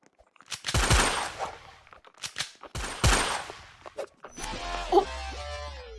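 Gunfire in the video game MVSD: two loud bursts of rapid shots with a short gap, then quieter game sounds and clatter.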